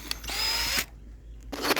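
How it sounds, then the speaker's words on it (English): A power drill whines loudly as it bores into wood for a homemade lamp, running for nearly a second, stopping briefly, then starting again. "Alright, now we're getting ready to drill."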